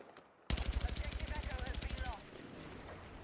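Rapid automatic gunfire in the Battlefield 6 video game, a loud sustained burst of evenly spaced shots lasting under two seconds before cutting off, with a voice talking faintly around it.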